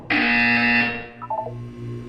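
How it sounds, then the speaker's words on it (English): Electronic buzzer from the video game Portal 2, a loud steady harmonic tone held for under a second, then a few softer stepped beeps trailing off over a low background hum. "When you hear the buzzer, look down at the floor."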